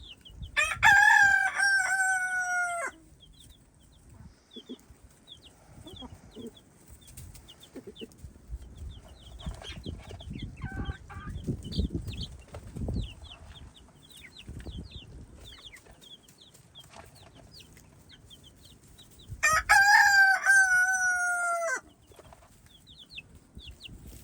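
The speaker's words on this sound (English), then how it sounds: "The rooster called." A rooster in a backyard flock crows loudly twice, once at the start and again near the end, with chickens clucking softly and intermittently in between.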